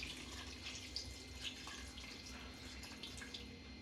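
Water is poured into a biryani pot holding a piece of butter, a soft, steady splashing trickle heard faintly and close, with no talking.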